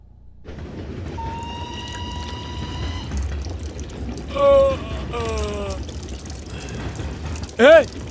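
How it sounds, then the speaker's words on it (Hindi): Water flowing steadily at the ancient site of Loulan, a continuous low wash that runs throughout beneath sustained tonal sounds and two brief sweeping cries. "ए, पानी बह रहा है।"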